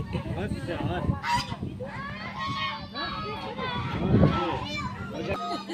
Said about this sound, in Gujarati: હંસ છે, બદક નથી।